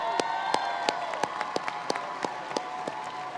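A graduation crowd at Cedar High School claps steadily in a large space, sharp individual claps standing out above a dense wash of applause and light cheering.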